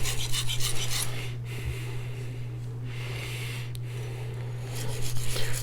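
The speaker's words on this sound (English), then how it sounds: "if you're new to sharpening knives, obviously I want the tip of the knife to cut as much as the bottom" A steel knife blade is drawn across an Arkansas natural sharpening stone in close, raspy scraping strokes, a steady gritty rub with brief pauses, over a low electrical hum.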